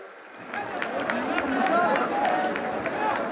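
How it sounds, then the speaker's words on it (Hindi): A large crowd at an outdoor event in Srinagar, Jammu and Kashmir, claps and murmurs in a steady, sustained wash of applause with scattered sharper claps cutting through. "जोरदार तालियां हर तरफ से"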